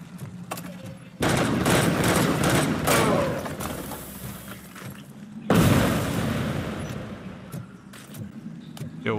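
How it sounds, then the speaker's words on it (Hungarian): Cannon fire in the Robocop Rogue City video game sounds as two loud, booming barrages, each fading into a rumbling tail, with scattered sharp pops between them. "Valami ágyú."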